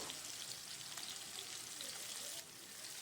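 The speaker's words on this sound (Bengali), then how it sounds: "আলুটা একটু ভাজা ভাজা করে নেব" Potatoes frying in a pan with a little oil, a steady soft sizzle and crackle running throughout at low level, with no talk over it.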